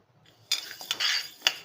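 Moong dal being dry roasted in a pan, with a few light metallic scrapes and clinks of a spatula against the pan, quiet and intermittent with no talking.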